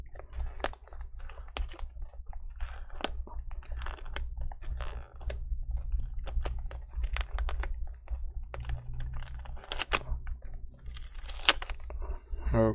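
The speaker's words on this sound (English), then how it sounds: "The connector, you need to peel that little tape backwards, peel it back" Thin tape is peeled back from the screen connector of a Dell Latitude 5490 laptop, heard close as a quiet series of crackling, ticking pulls and small tearing clicks with pauses between them.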